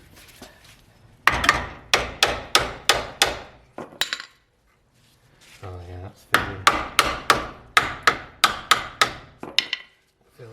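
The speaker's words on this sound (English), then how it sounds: "we'll first start with polite interrogation with a hammer" A hammer strikes the brake caliper of a Mitsubishi Delica in two quick runs of about eight loud, sharp metallic blows each, close to the microphone, with a brief pause and a short spoken remark between them.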